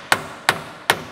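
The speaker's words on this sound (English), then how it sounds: "Okay, so I'm gonna be using this dead blow hammer." A plastic dead blow hammer drives a bushing into a control arm during a caster control arm upgrade on an MK7. Three sharp, evenly spaced strikes ring out on their own, each with a short, fading ring.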